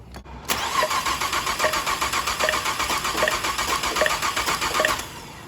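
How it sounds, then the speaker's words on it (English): A car engine with a suspected head gasket failure cranks over on the starter during a compression test, giving a loud steady rhythmic whirring of even pulses for about four and a half seconds before it stops. "I'm gonna go ahead and crank over the motor"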